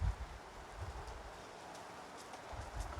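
Steady wind rushing and buffeting outdoors, with low gusty rumbles at the start and end and faint rustling throughout; no one speaks.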